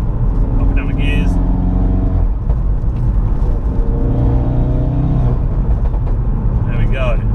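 A 400 BHP Ford Focus RS MK3 drives along country roads, its engine note rising and falling steadily through the gears with continuous close-up rumble and shifting harmonics inside the cabin, with some light speech alongside.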